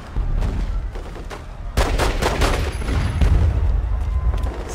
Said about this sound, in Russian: Стреляй!